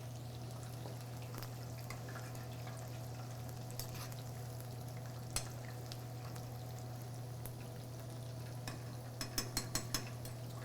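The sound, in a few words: General Tso's chicken frying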